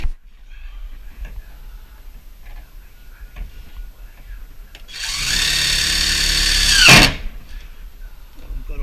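Power drill boring through material while fitting a side pocket, a low background hum swelling into a loud, steady whine for about two seconds before cutting off sharply.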